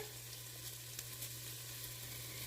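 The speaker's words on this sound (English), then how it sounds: "I have 5 slices of smoked bacon" Smoked bacon pieces fry in a stock pot, a steady close hiss and crackle with a low hum running beneath it and no talk.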